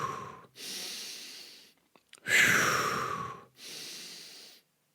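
Heavy breathy exhales during a bent-leg half squat warm-up stretch, three long audible breaths in a steady rhythm, close and fairly loud with short pauses between.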